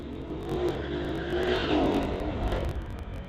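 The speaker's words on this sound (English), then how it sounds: "that is a peppy little Audi" A 2019 Audi TT accelerates hard down a drag strip at a street-legal drag racing event, its engine note rising steadily and fairly loud over about three seconds, with no talk over it.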